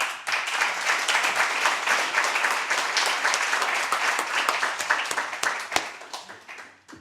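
Dense, sustained audience applause welcoming poet Brandon Brown at a poetry reading, many hands clapping steadily and close for about six seconds before thinning and fading out at the end.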